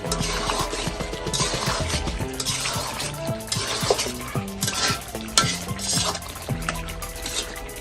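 Desi chicken bhuna with hand-ground spice paste being stirred in a pot, steady scraping and clatter of a spoon against metal over a continuous sizzle, fairly close and busy throughout.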